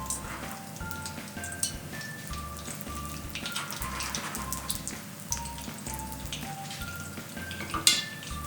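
Steady crackling and spattering of food frying in a pan, dense and close, with a few louder pops and faint clinks of cookware.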